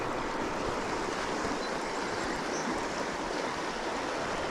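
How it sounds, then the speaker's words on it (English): A deep, powerful river riffle on a salmon fishing stretch rushes in a loud, continuous broadband roar close by, steady with no breaks and no voices. "It's a real deep riffle. It's a lot of power in the water."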